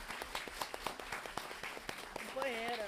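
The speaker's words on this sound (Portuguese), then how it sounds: "Eu peço uma salva de palmas para a deputada Inês Pandeló" Applause at a solemn award session in a state legislative assembly, honouring a deputy: scattered, fairly close hand claps that never build into a full ovation, mixed with ongoing talk and a voice rising near the end.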